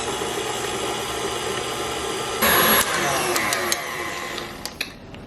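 An electric mixer whirs steadily while whipping egg whites in a bowl, with a loud motor hum that shifts in pitch partway through, followed by scattered clicks and knocks as it winds down.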